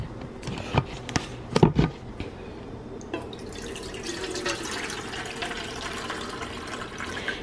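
Ice-cold water pours from a tap into a dog's bowl for a Yorkie, a close, steady splashing stream with a few louder drips and clinks near the start, with no talking.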